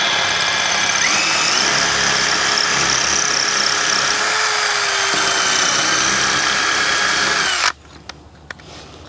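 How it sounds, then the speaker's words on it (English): A power drill bores holes to bolt an outdoor HVAC condenser in place. The motor whines loud and steady for about eight seconds, its pitch shifting slightly under load, then stops abruptly, leaving a few faint clicks. "That makes it really easy to come back and drill these."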